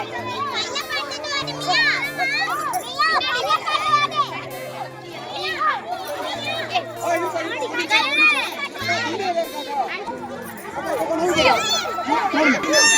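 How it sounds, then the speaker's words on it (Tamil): Village children play an outdoor game with a whistle and stones, a busy stretch of excited shouting, chatter and running voices close by for the whole length. "எங்கள் ஊர் பசங்க எப்படி விளையாடுறாங்க பாருங்க."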